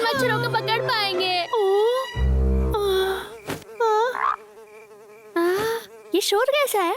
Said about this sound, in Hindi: मुझे नहीं लगता हम इन मच्छरों को पकड़ पाएंगे।